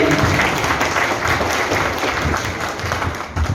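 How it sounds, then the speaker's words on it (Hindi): An audience at a ceremony honouring coronavirus frontline workers claps loudly and steadily for several seconds, close by and with no talk over it. "तालियां बजाएं एक बार अपने लिए"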